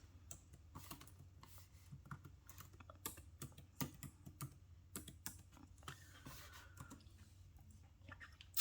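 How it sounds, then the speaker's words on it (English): Typing on a computer keyboard while entering a word into a search box: a steady run of light, quick key clicks in an irregular rhythm, close and fairly quiet, with no talking. "I'm going to type the word necklace."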